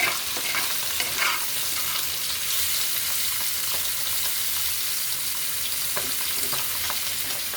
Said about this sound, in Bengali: মিষ্টি বেগুন আলু ভাজা হচ্ছে